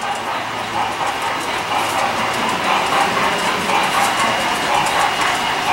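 Santa Fe 3751 model train rolls along a club layout, a continuous near rattle and clickety-clack of small wheels over track joints, with faint background chatter from the room.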